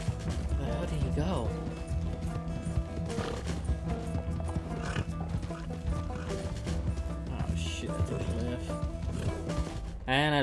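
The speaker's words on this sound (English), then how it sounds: "Come on, horse." A horse gallops in Red Dead Redemption 2, its hoofbeats running steadily beneath loud game music and sound effects for the full stretch, with a voice talking over the action.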